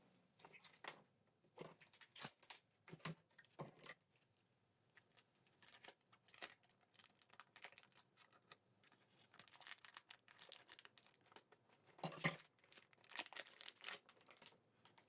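Tape and plastic wrap peeled off Epson ink cartridges while installing them in an Epson XP-4200 printer: a string of short, crisp tearing and crinkling bursts, fairly quiet and close, separated by brief pauses.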